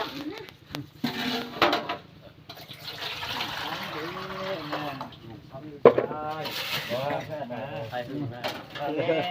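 Fish are washed in water, with splashing, sloshing and some clatter of a basin, close by, while people talk over it.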